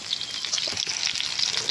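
Chicken fries in a pan at an outdoor party cookout, giving a soft, continuous crackling sizzle at moderate distance. The sound is fairly quiet and steady throughout, with no talking over it.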